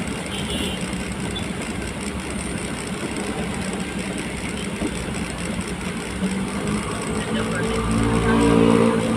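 City road traffic between Quezon City and Makati: a continuous rumble of engines and passing vehicles, with idling and a heavier vehicle swelling louder near the end, and voices talking intermittently over it.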